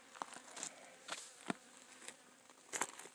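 Bees swarm around a water bottle and watering bowl at an outdoor mine site, a faint, steady buzz with occasional closer passes flying by the microphone.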